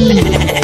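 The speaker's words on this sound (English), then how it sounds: "G is for goat." A goat gives a short, loud, wavering bleat up close, heard alone and lasting under a second.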